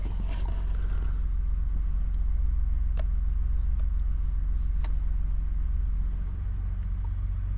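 A 2017-or-later Ford F-150 with the 3.5 EcoBoost engine idles just after an oil change, giving a steady low rumble that stays constant and close throughout, with a couple of faint clicks and no voices.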